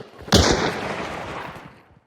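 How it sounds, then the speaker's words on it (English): A gunshot decoy going off in the video game Hunt: Showdown, one sharp loud report that crackles briefly and then rolls off into a fading echo over about a second and a half. "there are gunshot decoys"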